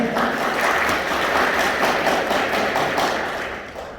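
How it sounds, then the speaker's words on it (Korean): A crowd at a dairy plant labor union election rally gives loud, steady applause for a union leadership candidate, tapering off toward the end. "국민의원 이준호 후보에게 뜨거운 박수를 부탁드립니다."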